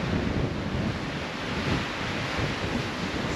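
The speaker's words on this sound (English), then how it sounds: "this wind is whipping like 60 miles an hour" Strong wind, gusting around 60 miles an hour up a canyon, roars steadily as loud broadband rumble and buffeting against the microphone throughout, with no talking.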